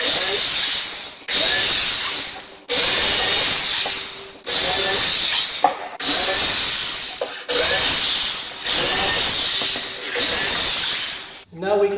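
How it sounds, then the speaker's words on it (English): A power drill whirs in repeated bursts, about seven runs of a few seconds each with brief pauses between, loud and close, with a high whining hiss. "Next I'm going to pre-drill 1 screw for each of these."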